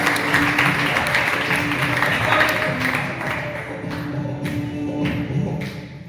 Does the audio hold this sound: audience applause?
yes